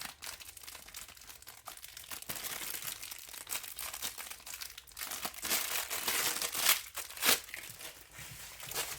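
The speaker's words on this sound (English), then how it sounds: "Let's go ahead and unwrap that spoon and stir that up." Crinkling plastic wrapper being torn and peeled off an MRE spoon, a steady rustle with sharper crackles near the end, close up and with no talking.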